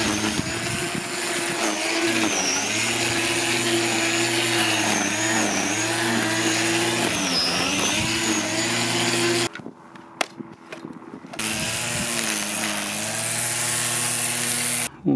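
A Black & Decker edge trimmer fitted with a Parkside battery through an adapter runs with a steady, close motor whine whose pitch dips and wavers. It cuts out briefly near the end, then starts up again, with no voices.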